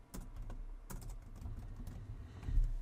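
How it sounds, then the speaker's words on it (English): Close, fast tapping on a computer keyboard as a business name is typed, a steady patter of keystrokes with a few sharper clicks. "type in your business name"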